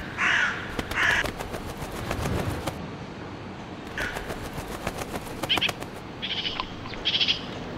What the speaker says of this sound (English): they attract flocks of crows